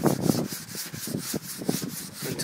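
Sandpaper rubs back and forth over dent filler on a truck body in steady, close strokes, a rough scratchy rasp repeating about every quarter second with no voices.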